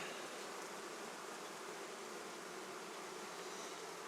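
Honey bees buzz steadily at a beehive entrance in a pre-winter apiary, a continuous dense hum of many wings, close and even throughout with no talking.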